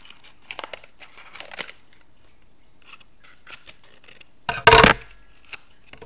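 Paper being cut with scissors to make a paper gun: a few soft snips early on, then a louder, close crinkling burst of handled paper near the end, with no talking.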